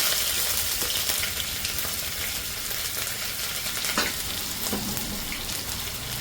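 Crushed garlic cloves and a good piece of ginger fry in a pan, a steady crackling sizzle with occasional scrapes of stirring, close and continuous, with no talking.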